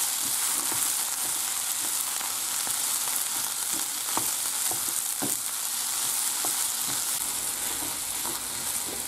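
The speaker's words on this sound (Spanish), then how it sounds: "se le echa el jamón y se remueve durante 5 minutos." Ham and potatoes fry in a pan for a country-style tortilla, a continuous close sizzle overlaid by frequent scraping and knocking as a utensil stirs them throughout.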